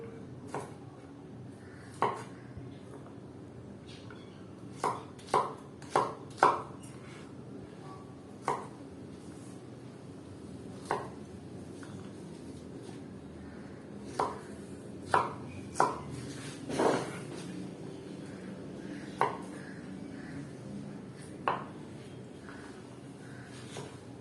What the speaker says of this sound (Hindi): और इस तरीके से हम सारी अपनी भिंडी को काट लेंगे।